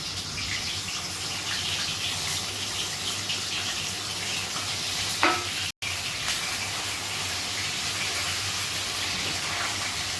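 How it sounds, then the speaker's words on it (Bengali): Paneer and onions frying in a pan for paneer biryani give a steady, close sizzle that runs throughout, broken only by a brief dropout partway through. "লাল করে ভেজে নেবো আমি"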